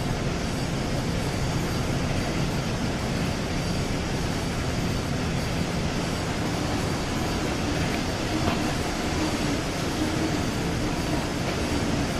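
A German ICE train runs in the Train Sim World 2 simulator, a steady, loud, broadband rumble and rolling roar that stays constant for about twelve seconds with no voices over it.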